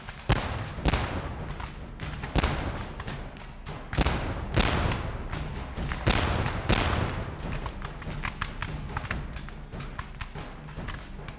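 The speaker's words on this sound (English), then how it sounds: "Eventually, the new Confederate occupants will be attacked by artillery and forced out." Artillery fire at a Civil War re-enactment of the Atlanta campaign, heard as a run of heavy booming thuds with sharp cracks scattered through, loud and close, without speech.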